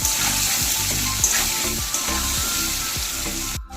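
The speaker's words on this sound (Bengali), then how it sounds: "এই আলুটাকে আমি লাল লাল করে ভেজে নেব।" Potatoes seasoned with turmeric and salt fry in hot oil until reddish, giving a steady close sizzle broken by regular scraping strokes of a spatula as they are stirred, with no talking.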